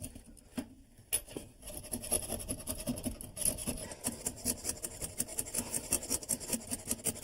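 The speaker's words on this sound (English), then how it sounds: "So I'm going to hold back with a pair of pliers and cut it with a hacksaw blade." A hacksaw blade cuts through a rusted toilet closet bolt with close, rapid rasping back-and-forth strokes. The sawing runs steadily after a few brief starts and carries no talk.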